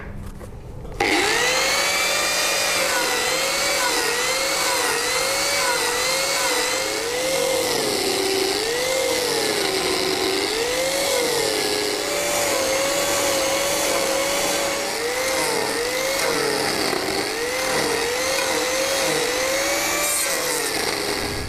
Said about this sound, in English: I'm just machining it straight down to follow that rough oval shape, and that just gives me the basic shape